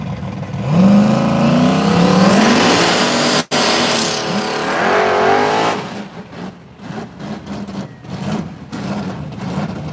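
No-prep drag race between a Mustang and a Chevy S10 pickup: a loud, close engine roar builds and revs hard for several seconds, cuts off abruptly, then surges again before fading into rumbling, uneven engine noise.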